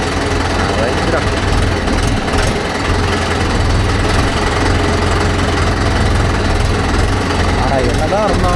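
A Mahindra Yuvo Tech Plus 585 4WD tractor engine runs loud and close with a steady low rumble and rattling vibration from its fitted top, while someone talks over it.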